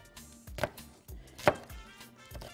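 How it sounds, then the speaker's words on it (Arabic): A knife chopping bell pepper and hot pepper on a board, with a handful of sharp, unevenly spaced cuts over a soft background, fairly close and moderately loud. "اقطع الفلفل الرومي الفلفل الحامي"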